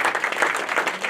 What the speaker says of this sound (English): Can we have a big round of applause as well for all the parents?